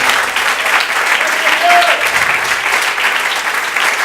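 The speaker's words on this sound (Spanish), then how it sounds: "Si Él merece un aplauso, déselo, gloria a Dios, aleluya." A church congregation breaks into steady, loud applause, a dense wash of clapping that holds evenly throughout with a few voices mixed in.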